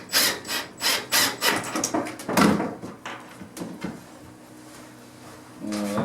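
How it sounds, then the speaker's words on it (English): A power tool works on wood while building a screech owl nesting box, giving a run of rhythmic, loud rasping strokes at first that fade into quieter scraping and a low hum near the end. "This time I'm going to use the power tool."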